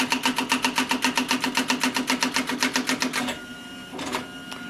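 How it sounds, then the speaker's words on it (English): A Xerox Memorywriter 6020 electronic typewriter runs its printing self-test, firing a fast, even train of about twenty mechanical strikes at close range before stopping, followed by a quieter whir and a short burst of movement. "And now it's printing characters, I believe, at the two extremes of the platen."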